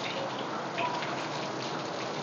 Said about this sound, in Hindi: किसी जोर से बारिश पड़ रही है।